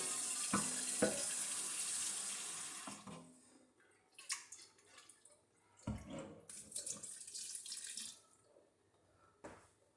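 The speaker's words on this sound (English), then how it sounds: "You want to rinse this pot real good to make sure you get all the sugar out of it." Tap water runs steadily into a pot being rinsed out after holding sugar, then stops, followed by intermittent splashes, clanks and brief bursts of running water from the sink.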